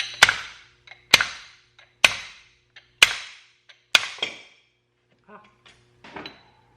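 A hammer strikes while a wheel bearing is packed in a workshop on a V10 jet boat project: five sharp, evenly spaced metallic blows, each ringing briefly, then a few lighter taps and clatter.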